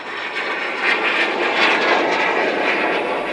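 An L-39 Albatros jet trainer's engine spools up, a loud, close turbine whine and roar that swells in the middle before levelling off, with no voices.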